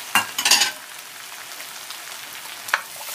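Colored bell peppers dropped into a hot pan crackle in a short loud burst, then settle to a soft continuous frying hiss with one more brief sputter near the end.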